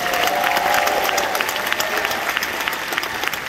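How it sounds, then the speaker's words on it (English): Dense, steady applause from an audience at the Foundation of Black American Expo in Dallas, sustained for the whole stretch with a slight easing toward the end. "Give yourselves a round of applause."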